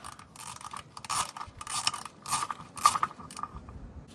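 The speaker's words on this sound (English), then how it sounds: "I am going to take out the fill plug right here" A ratchet clicks as the fill plug comes out of a Ram 2500 transfer case with a 6.4L HEMI: short bursts of metallic ratcheting and tool clatter in a garage, close and moderate, with no talk.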